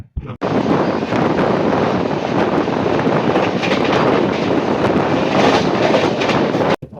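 Loud, continuous roar of express train 16231 (Cuddalore Port to Mysore) rushing past at high speed, around 120 km/h, with rattling and wind buffeting sustained throughout before cutting off abruptly.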